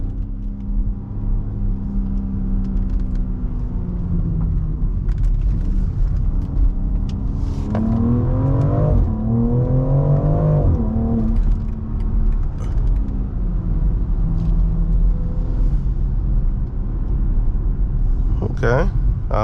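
Lifted and stretched BMW M3 with its engine running loud, a steady low rumble that rises as it revs mid-clip, heard from inside the car while someone talks over it throughout.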